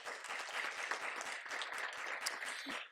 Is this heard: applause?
yes